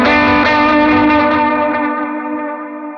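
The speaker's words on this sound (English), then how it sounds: "I like to flip to the bridge pickup just to give it a little more bite." Electric guitar on the bridge pickup, bright and biting, playing a sustained chord with delay and reverb that let the notes ring and echo as they slowly fade, loud and alone.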